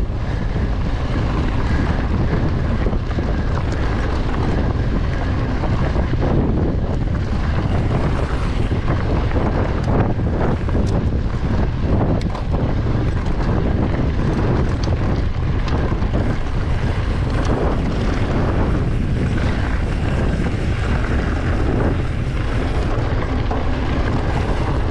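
Wind buffets the microphone throughout an enduro race, a loud, continuous roaring rumble with gusty surges and no pause, drowning out everything else.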